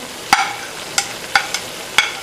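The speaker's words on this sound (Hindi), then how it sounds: "अब इस स्टेज पे हमने टमाटर डाल देने, 2 टमाटर जो काटे हुए हैं बारीक बारीक" Finely chopped tomatoes and green chilies go into a hot karahi for chicken karahi, with a series of sharp, close clinks and scrapes at irregular intervals over a faint background sizzle.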